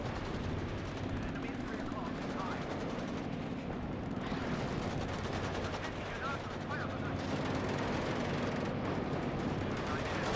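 Machine guns in the WARNO real-time strategy game firing steady distant bursts on Spetsnaz infantry, under continuous explosions and battle din, with someone talking over it.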